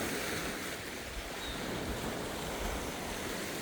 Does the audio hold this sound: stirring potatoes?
no